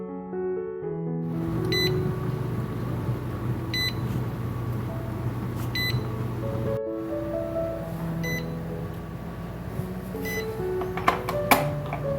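A Presto electric pressure canner gives a series of short, clear electronic beeps as its controls are set, with a steady humming drone running underneath the whole time.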